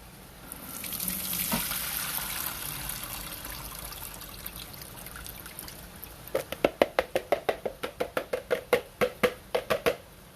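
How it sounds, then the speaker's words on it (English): Water pours and splashes into a sink as it is drained off soaked noodles, then gives way to a run of rhythmic glugging drips as the last of it drains away. "So I'm going to drain this water off of those."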